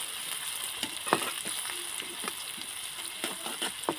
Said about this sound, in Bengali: আমি তেলের সাথে পেঁয়াজটা দিয়ে দিয়েছি